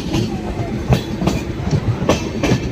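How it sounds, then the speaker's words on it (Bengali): The Ballia Express rolls past at a station in India, its wheels beating out a loud, close, rhythmic clickety-clack over the rail joints. "তার মানে এটা হচ্ছে বালিয়া এক্সপ্রেস"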